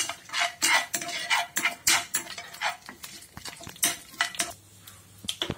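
Red chillies and curry leaves tempering in a pan with mustard seeds and urad dal, heard as brisk repeated metallic scrapes and clinks of a spoon stirring, close and loud with a faint sizzle beneath, no talk.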